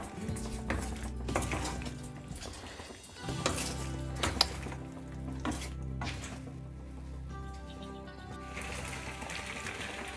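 Boiled pasta stirred through a mix in a pan, with soft scraping and clinking of a spoon against the pan over a continuous low sizzle, close and steady, no voices.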